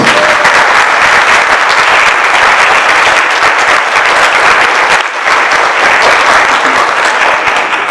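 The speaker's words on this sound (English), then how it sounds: "can we give our parents a big round of applause?" Loud, sustained applause from a school board meeting audience honoring students' parents, dense steady clapping filling the room for the whole stretch with a brief dip near the end.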